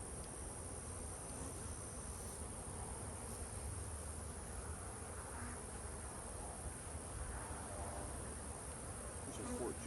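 Honey bees swarm around jar-fed hives in a grassy apiary, making a dense, unbroken buzzing drone that fills the whole stretch at steady volume with no pauses.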